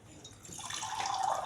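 Water pours into a glass during a water-drinking contest, a brief rising trickle and splash that grows louder as the glass fills, close to the microphone with no talk.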